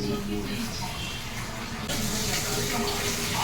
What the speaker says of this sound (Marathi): तर हे सर्व मिक्स करून व्यवस्थित पाण्याने धुवून घ्यायचं